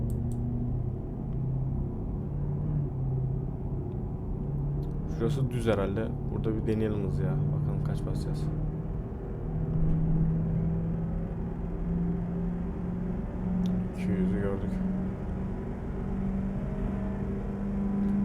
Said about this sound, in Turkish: Sadece böyle motor sesini bile dinlesem yeter bana ya.